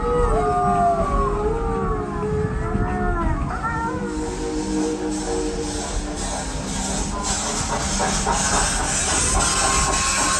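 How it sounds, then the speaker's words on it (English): A long wavering howl as a werewolf effect on a Halloween ghost train ride in Blowing Rock, North Carolina, rising and bending over steady train rumble and steam hiss, fading into a noisy mix of rolling rail sounds. "Do you hear that? The werewolves have been alerted by the whistle of the ghost train"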